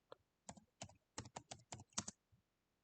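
Quick bursts of keystrokes on a computer keyboard as a short prompt is typed, close and quiet, with a slightly louder tap near the end and no talking.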